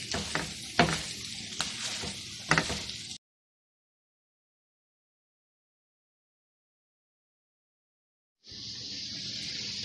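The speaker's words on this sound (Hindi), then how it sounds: "तो हम लो फ्लेम पे, बिल्कुल लो फ्लेम पे इसको सौते करेंगे मिर्चें डाल के 15 से 20 सेकंड के लिए।" Green chilies sauté on a low flame in a pan. A soft sizzle with a few stirring scrapes is followed by a sudden silence, then a steady, even hiss of frying returns.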